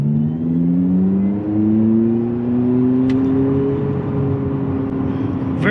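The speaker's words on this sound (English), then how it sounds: "You are getting a motor noise from the EV motor where it's whining, and you can feel it's zooming, you can feel it's accelerating" Abarth 500e electric car accelerating with its EV motor whining, rising tonal whine steady and close throughout, with a synthetic exhaust-style sound blended in, under no talk.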